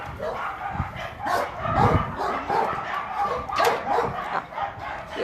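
A small dog barks, yips and whimpers in repeated short bursts at moderate distance, fairly faint, with some background noise between calls.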